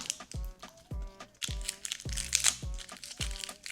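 Cloves are pulled from a small garlic bulb and the stem is cut, making a run of crisp papery crackles and crunches, about six distinct snaps in a steady rhythm, close and fairly loud.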